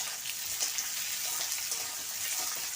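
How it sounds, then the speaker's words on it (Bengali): Small pieces of boiled, peeled potato fry in oil with tempered spices for a papad curry, making a soft, even hiss like light rain with occasional faint crackles, steady and fairly quiet throughout. "এখন আলুগুলি দিয়ে দিলাম। ফোড়নের সাথে একবারে আলু ভালোভাবে ভেজে নেব।"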